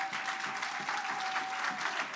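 A church congregation claps steadily and fairly loudly throughout, a dense even applause with no voices standing out.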